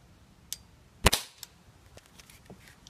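A high-powered CO2 BB gun fires once outdoors, a sharp loud crack with a brief decaying tail, surrounded by a few faint clicks and ticks in otherwise quiet surroundings.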